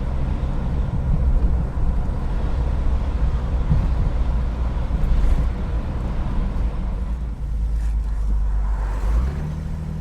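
A tank's hot engine idles steadily, a loud, continuous low rumble that holds even throughout, shifting slightly in pitch near the end.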